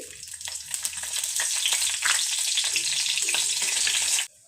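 Whole spices (dried red chillies, bay leaves, cardamom, cinnamon and cumin seeds) frying in hot mustard oil in a wok, a loud, dense, steady sizzle close up for about four seconds that cuts off abruptly at the end.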